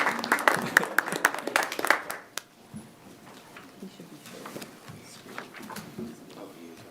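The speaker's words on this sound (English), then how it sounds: "Should we clap for the auditors?" A handful of committee meeting attendees clap briefly for auditors, a short burst of close, distinct claps that stops after two seconds, followed by quiet room noise and scattered voices.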